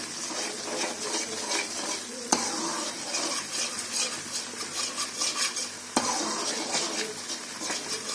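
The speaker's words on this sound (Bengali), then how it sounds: "দেখতে পাচ্ছেন মাখনটা বেড়ে গলতে যাচ্ছে।" Butter melts and bubbles in a pan as ghee is made with lemon leaves added, a dense steady sizzle with crackling froth and two sharp clinks of a utensil against the pan.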